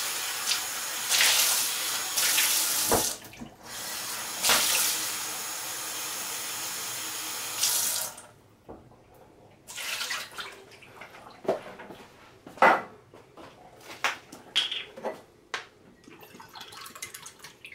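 Tap water runs from a kitchen faucet into a measuring cup, a steady loud rush for about eight seconds that then stops, followed by scattered clinks and small splashes.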